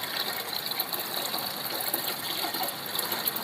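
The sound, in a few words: water flowing from a pipe filling containers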